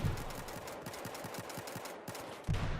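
Rapid bursts of gunfire in Battlefield 4, a steady run of close sharp shots with a louder blast near the end, no talking over it.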